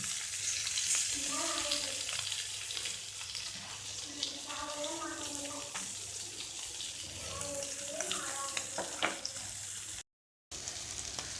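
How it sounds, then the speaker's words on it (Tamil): Sardines (mathi) frying in a pan of oil, a steady broad sizzle running throughout with a short gap near the end, while a voice talks intermittently over it. "இப்போ கொஞ்சம் இந்த பக்கம் ரோஸ்ட் ஆகும்."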